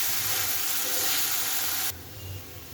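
Fish pieces frying in a spiced masala of chili powder and green chili, a loud, dense close sizzle and steamy hiss that drops off sharply partway through, no talking.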